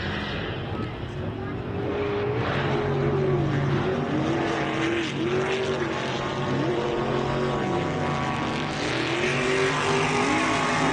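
Off-road racing vehicles launching over the MetalCloak start-finish jump, engines droning and revving with rising and falling pitch as they pass, under a commentator talking throughout.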